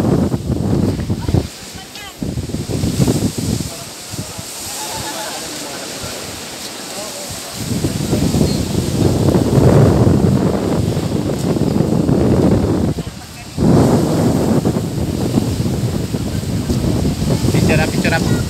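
Strong gusts of wind buffet the microphone on a seashore, with waves and surf roaring beneath. The wind rises and falls in heavy bursts, and voices can be heard intermittently.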